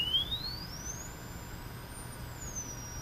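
High sine test tone played through a field coil speaker, a steady pure whistle that glides slowly upward, holds, rises again and settles, thin and moderately faint over a low background rumble.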